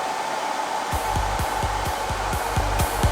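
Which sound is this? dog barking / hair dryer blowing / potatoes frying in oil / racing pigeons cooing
hair dryer blowing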